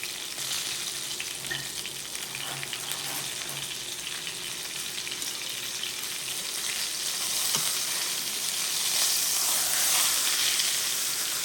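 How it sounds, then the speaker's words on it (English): A spice-rubbed steak sears in a hot frying pan, giving a loud, steady, dense sizzle that holds throughout and swells slightly toward the end, with no talking. "Okay, I'm gonna go ahead and turn this steak over."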